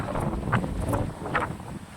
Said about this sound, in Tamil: காற்று ரொம்ப அடிக்குதுங்க